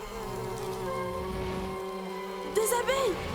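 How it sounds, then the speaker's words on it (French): A swarm of bees buzzes around a giant hive in an animated jungle scene, a steady droning hum with higher whining passes of individual insects near the end. "Des abeilles!"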